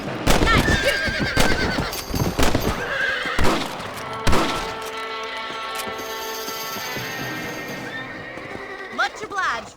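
Horses in the Red Dead Redemption video game whinny loudly several times while hooves clip-clop, with gunfire-like thumps and voices talking throughout over a steady background.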